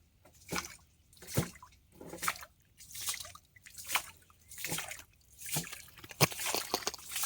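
Repeated drips and small splashes of pumped water returning into a small fish pond, arriving in a steady rhythm roughly every second, close by with no talking.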